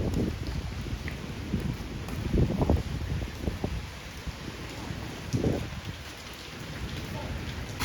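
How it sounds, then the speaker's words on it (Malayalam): Heavy rain pours steadily in Little India, Singapore, a dense continuous wash with occasional low rumbles and thumps rising over it, close and fairly loud with no talk. "കണ്ടില്ലേ, നല്ല മഴ പിടിച്ചിട്ടുണ്ട്"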